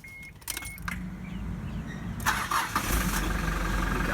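Keys jangle as one is turned in a car's ignition, then the starter cranks and the engine catches, settling into a loud idle that carries on to the end. No voices.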